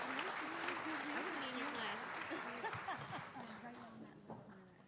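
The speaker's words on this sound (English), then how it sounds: "Can we give them another round of applause?" An audience at an education summit applauds steadily while voices talk over the clapping, which fades toward the end.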